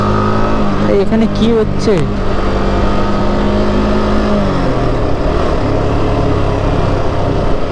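Kawasaki ZX-6R motorcycles accelerating hard at speed, a loud rising engine whine with gear-change drops that sweeps past close by, continuous roar under steady talk.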